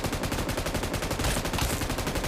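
Rapid gunfire from a video game, a dense continuous burst of shots rattling steadily for a couple of seconds with a heavier stretch midway, loud and with no talking over it.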